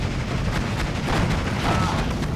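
An MG42 machine gun fires in a World War II battle in Steel Division 2, with a dense, continuous rattle of gunfire and distant artillery booms layered into a loud, busy battlefield din.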